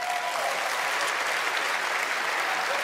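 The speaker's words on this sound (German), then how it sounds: "bitte großen Applaus" Applause from the audience at the Goldene Kamera Digital Award show in 2018, welcoming a journalist and presenter onto the stage: a dense, steady wash of clapping from a large crowd that holds even for the whole stretch.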